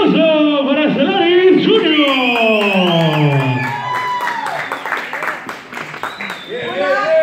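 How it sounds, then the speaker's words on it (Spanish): Crowd applause and cheering at a wrestling show, mostly buried under a loud amplified announcer's voice, with scattered clapping coming through more clearly toward the end. "¡Fuerte el aplauso para Ferrari"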